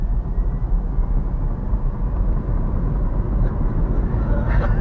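BMW i3 electric car accelerating hard onto a highway, a steady loud broadband roar of road and wind noise with a rising whine, continuous throughout with no talk.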